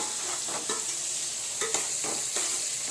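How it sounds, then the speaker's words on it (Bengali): Onions sizzle steadily in a hot pan, with a few short stirring scrapes breaking through the constant crackling hiss. "পেঁয়াজ ভাজছি আর ওদিকে সিটি পড়ছে"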